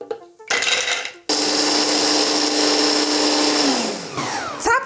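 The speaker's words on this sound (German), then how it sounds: "Die müssen wir uns jetzt erst einmal in so einen Multizerkleinerer geben und ein bisschen zerhäckseln." An electric food chopper grinds pecan nuts in short bursts, a loud whirring roar with rattling pieces that runs for about three seconds and then winds down, followed by a brief final pulse.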